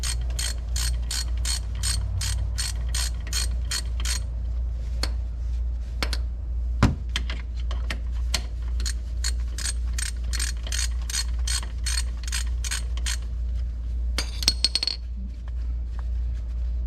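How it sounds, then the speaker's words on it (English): A ratchet wrench turns out a 13mm brake caliper bolt on a Hellcat during a brake pad change, loud rapid clicking in bursts with short pauses between them and a few metallic clinks, with no voices. "Now we get this 13mm bolt off the back."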